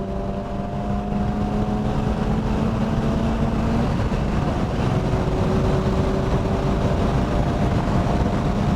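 A Honda Civic Type R FL5 accelerates at full throttle on Virginia International Raceway, a loud steady in-car engine drone with a faintly rising tone, continuous throughout with no talking.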